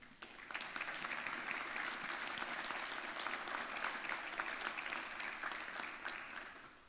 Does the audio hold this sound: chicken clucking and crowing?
no